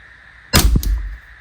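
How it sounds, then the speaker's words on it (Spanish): Single sharp shot from an Umarex Legends 1911 replica airgun, a loud close crack with a brief metallic clang and short ring after, alone in a quiet room. "Primer disparo."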